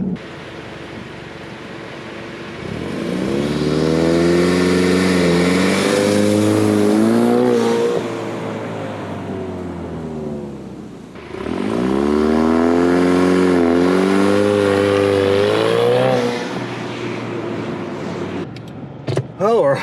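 A Ford Mustang with a 10R80 transmission holds loud, steady revs on launch control in two long bursts, the engine rising and hovering near a fixed pitch before dropping back between them.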